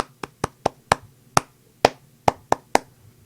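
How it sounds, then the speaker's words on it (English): Hands clap out a simple rhythm, nine crisp, sharp claps spaced unevenly over about three seconds, close and clear against a quiet background with no talking. "but I would clap"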